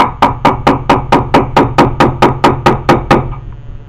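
Light blows from a small hammer drive a bearing into the outer part of a water pump belt tensioner pulley: around fourteen crisp, evenly spaced metallic taps, loud and close, with no talking.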